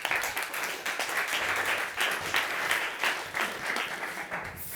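Audience at an investment conference pitch session applauds, a sustained burst of many hands clapping in a crisp, dense patter that swells and dips slightly, heard fairly close in the hall.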